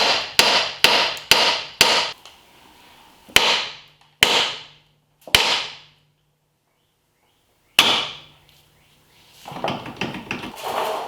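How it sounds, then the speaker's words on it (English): Sharp metallic hammer blows on car parts during Northstar V8 rear main seal work ring out, a quick series of five followed by several slower, spaced strikes, close and loud. "Then I'm going to take this hammer, and we already got whack marks on here"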